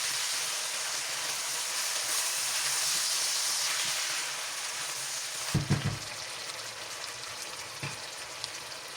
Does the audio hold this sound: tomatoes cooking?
yes